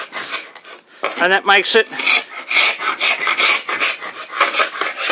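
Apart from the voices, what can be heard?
paint scraper stripping paint from antique wooden cabinet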